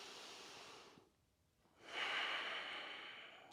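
A single deep breath during a yoga stretch, seated tall with fingertips behind and chest lifted: a soft airy draw, a brief pause, then a louder, longer rushing exhale close to the ear.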